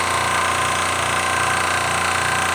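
Hill brand air compressor running steadily close by, a continuous loud mechanical chugging drone with a rapid rhythmic pulse and no pauses.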